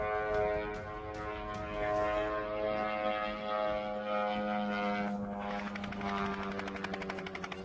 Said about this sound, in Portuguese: esse é um drone com uma aparência bem peculiar, se posso dizer assim